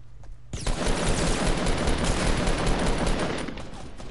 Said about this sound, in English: I don't know where he's shooting